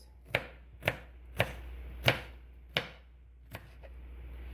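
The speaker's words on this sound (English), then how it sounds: "and then you're going to take those and just chop them into pieces" A knife chops food into small pieces on a board for chili or beef barley soup, giving six or seven crisp, evenly spaced thuds that carry clearly over a quiet background with no speech.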